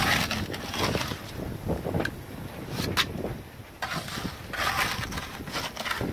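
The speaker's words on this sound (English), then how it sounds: "Doing project in a heavy wind." Heavy wind blowing outdoors, gusting loudly across the microphone in uneven surges and buffets for several seconds, no talk.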